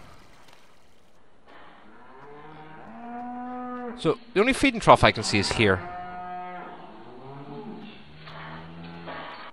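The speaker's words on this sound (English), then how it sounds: "So beef wise, guys, beef cows are over here" Beef cows in a farming video game moo several times in long, loud, harmonic calls, with a burst of overlapping, close moos in the middle; someone talks over the opening and the end.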